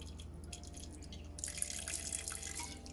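Rum trickles into a pot of cooled sorrel for a Jamaican Christmas fruit cake, a soft, faint pour with light dripping and splashing, growing slightly fuller partway through.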